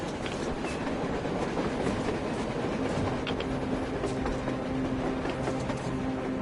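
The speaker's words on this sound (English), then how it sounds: "A train! A damn train on the surface!" A train moving on the surface in the video game Metro Exodus, rolling with a steady clattering rumble of wheels on rails and faint metallic hum, continuous and fairly distant, no talking.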